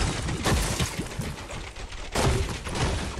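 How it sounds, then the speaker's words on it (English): Rapid gunfire in the video game Fortnite aimed at a sniper, dense overlapping shots forming a loud continuous fusillade with sharper bursts near the start and again after the midpoint. "the sniper that they were shooting at,"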